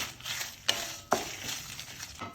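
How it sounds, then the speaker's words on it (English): Red chilies hit hot oil in a pan over a low-medium flame, a steady soft sizzle with two sharp clicks or clatters partway through, no voices. "Now I am adding the red chilies."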